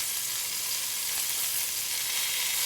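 Pork chops with sage sizzle and fry steadily in a pan, a dense, even crackle held close and loud throughout with no talking.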